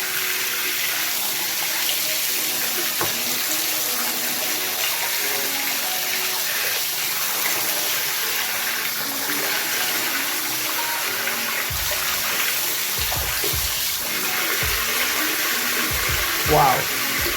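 A Motorola Moto G 5G Plus phone is blasted with a steady high-pressure water spray, making a constant loud hissing gush that holds throughout, with a few splashy knocks near the end.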